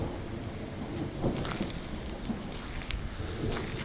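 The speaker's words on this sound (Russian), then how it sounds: "начался дождь" Steady rain patters over a low, rough rush of wind on a mountain during a thunderstorm, with faint scattered drops and thuds, continuous and moderately loud outdoors.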